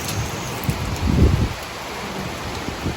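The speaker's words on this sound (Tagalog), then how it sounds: "Parang isang buhos na malakas na ulan" A sudden heavy downpour in Bangkok roars as a steady wash of rain, swelling briefly louder midway, with no voices.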